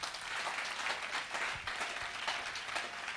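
A church congregation applauds to acclaim the Lord, a steady wash of many hands clapping together throughout, dense and moderately loud, with no voices standing out.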